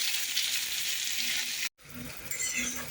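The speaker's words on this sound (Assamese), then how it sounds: "এতিয়া মই পিঁয়াজখিনি ভাজি ল'ম।" Chopped onions frying in hot fish-frying oil after garlic, a steady close hiss and sizzle with light stirring and a brief dropout partway through.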